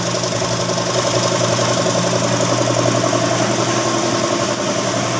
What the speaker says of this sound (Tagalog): pinaandar na ang makina, no, para umikot na yung langis sa loob